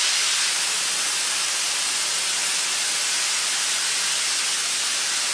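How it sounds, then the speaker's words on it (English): A small no-brand airbrush compressor tank vents its pressure in a continuous, loud, broadband hiss that runs steadily alone for several seconds. "every time you're done airbrushing, you want to let the pressure out of here"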